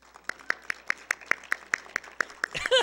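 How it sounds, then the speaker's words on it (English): Church congregation giving a hand clap at a sermon, a steady run of about a dozen separate claps spaced evenly over a faint room background, ending in a louder burst that could be a shout or cheer. "Can you give the Lord a hand clap and a shout?"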